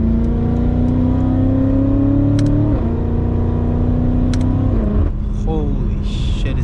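Straight-piped BMW F90 M5 engine and exhaust accelerating, a loud, steady rising drone heard from inside the car that climbs through the gears with brief drops at each shift, and a voice comes in near the end.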